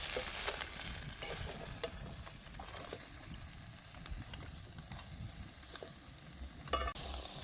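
Crab being stir-fried with spices in a pan, cooked on a boat: a steady crackling sizzle with scraping stir strokes, close and continuous, with no talking.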